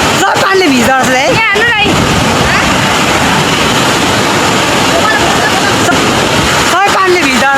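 A waterfall throws spray in a loud, steady roaring wash, with people talking briefly at the beginning and end.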